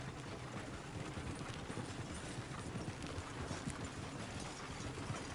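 Horse hooves clip-clop steadily and close in a Red Dead Redemption 2 game scene, a continuous dense rhythm of hoof falls over outdoor ambience with no speech.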